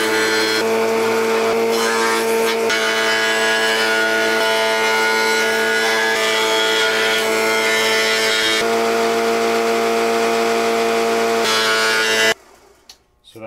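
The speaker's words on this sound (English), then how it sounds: "I'm going to take this down on the planer to get these edges perfectly straight" Planer taking light passes along the edges of a guitar fretboard, a loud continuous whirring drone held for about twelve seconds before cutting off abruptly into quiet.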